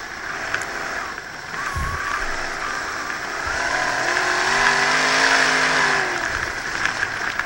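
Race cars at speed during a 30-lap evening feature race on a New England short track, a continuous loud engine roar that swells as cars pass close by, with revving pitch sweeps and no talk.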